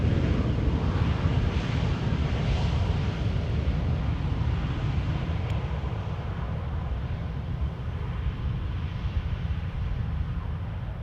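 An EasyJet airliner rolls out after landing at Amsterdam Schiphol, a steady broadband jet roar with heavy low rumble and wind buffeting, holding loud and constant throughout.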